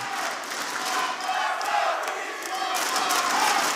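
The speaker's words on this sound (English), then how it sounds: "I think this is the loudest we've heard the crowd all day." A large indoor esports arena crowd cheers and roars loudly and continuously, a dense wall of excited voices without pause.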